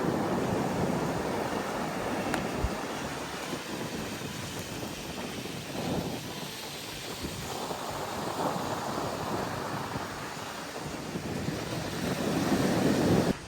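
Large ocean waves roll and crash on the shore during rough seas, a broad continuous roar of surf with gusts of wind buffeting the microphone and nobody speaking.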